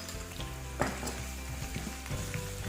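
Ginger and garlic sautéing in a pan for a creamy chicken curry, a steady close sizzle and crackle with a brief clink or stir near the start.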